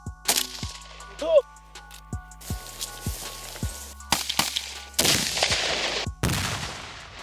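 Sharp gunshots crack one after another at irregular intervals on a military training range, some single and some in quick bursts, loud and close, with brief background noise between.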